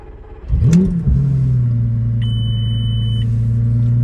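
A Lamborghini Gallardo engine restarting: a quick starter whir and catch, then a steady, loud low idle rumble close by, with a faint high tone over it for about a second.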